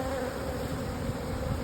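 Honeybees in an open beehive make a dense, continuous buzz close by, a steady swarm hum with no voices.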